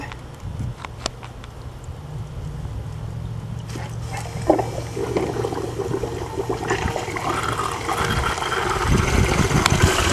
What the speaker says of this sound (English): A lot more water coming out of my 2-inch pipes.